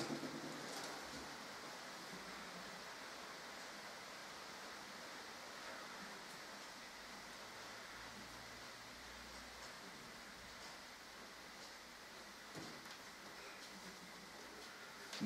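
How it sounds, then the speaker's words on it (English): Steady pouring rain hisses as a continuous, even wash of noise for fifteen seconds, faint and distant with no voices, broken only by a small knock near the end. "Listen to the pouring rain, listen to it pour."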